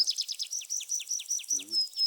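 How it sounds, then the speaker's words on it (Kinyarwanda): Bird calls in the Amazon forest at dawn: high, thin chirps repeat in a quick, even rhythm, fairly close and clear over otherwise quiet surroundings, with a brief low sound near the end. "inyoni zirimo ziravuga."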